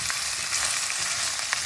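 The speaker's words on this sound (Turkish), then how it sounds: "Fasulyelerle de birazcık 2-3 dakika çevireceğim" Fresh green beans being sautéed and stirred in a pan, a steady close hiss of frying with a few soft utensil scrapes, no voices.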